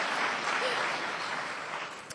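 Applause from an audience at a 2005 CITT town hall meeting, a steady wash of many hands clapping that holds evenly for about two seconds before tapering slightly at the end.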